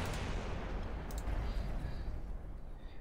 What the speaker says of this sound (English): That's the target I was hoping it would use the Hellfire missiles on.